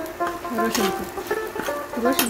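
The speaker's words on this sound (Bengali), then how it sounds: "এই মরিচগুলো একটু ভাজা হয়ে গেলে" Chillies frying in a pan, a soft sizzle running underneath a voice that talks across the whole stretch.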